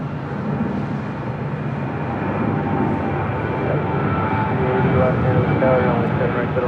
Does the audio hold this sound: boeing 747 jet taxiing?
yes